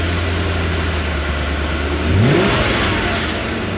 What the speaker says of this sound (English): The engine coughed, stalled, then roared back to life on its own.